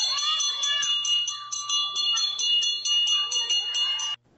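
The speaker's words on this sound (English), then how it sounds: "He was ringing the bell." A school bell rings steadily in a rapid, continuous metallic clang for about four seconds, fairly clear and close, then cuts off abruptly.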